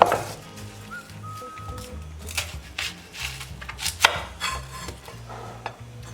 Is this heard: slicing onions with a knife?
yes